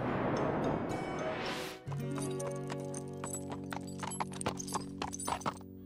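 Cartoon horse hooves clip-clop along a trail in a steady rhythm, close and clear, with a brief whinny near the start and a sustained musical tone running underneath.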